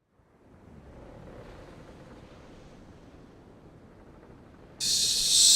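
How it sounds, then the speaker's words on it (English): Calm ocean in a video game, out in a bay, soft steady wash of water and wind that swells slightly, then a sudden bright hiss near the end. "Solid, placid ocean."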